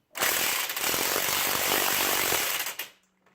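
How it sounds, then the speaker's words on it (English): Angle grinder touch-grinding a brake caliper on a 1997 Ford Mustang, a loud, continuous harsh whine lasting about two and a half seconds before cutting off abruptly. "actually do a little bit of touch grinding on the caliper"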